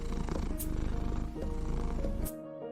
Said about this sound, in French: Il répondit en ronronnant.